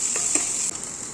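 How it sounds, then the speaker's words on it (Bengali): Chopped onion frying in hot oil in a wok, a steady bright sizzle with a few soft stirring scrapes and no voices. "পেঁয়াজটা ভালো করে ভেজে নেব লাল লাল করে"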